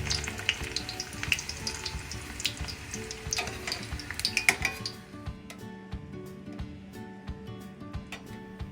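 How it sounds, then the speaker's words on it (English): Loud crackling sizzle of dried pasilla chilies frying in a pan for mole sauce, mixed with clinks of a utensil turning them, settling into a quieter, steadier sizzle halfway through. "the chili pasilla, which is the one in the back that I'm turning now, that one fries up super fast"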